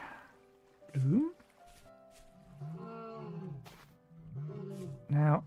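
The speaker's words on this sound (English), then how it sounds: "What the hell is a lion cub doing here?" A lion cub in the survival game Vintage Story lets out two short, rising growling roars, one early and one at the end, with a voice talking over much of the clip against a quiet outdoor ambience.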